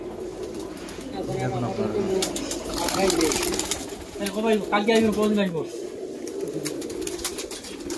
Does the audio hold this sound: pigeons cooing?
yes